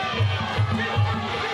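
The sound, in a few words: arena crowd cheering and chanting at a fight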